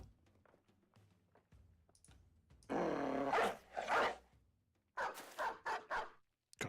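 A dog makes noises in a room in a few short, loud bursts separated by quieter stretches of soft rustling and movement.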